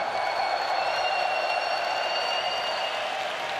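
Arena crowd at the Mercedes-Benz Arena in Berlin during an esports grand final, a dense, steady roar of cheering and applause filling the space, continuous and fairly loud.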